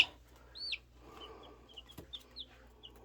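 Newly hatched chicks give faint, high, rising peeps, one sharper call and a few scattered softer ones over a quiet room hum, with a small knock midway.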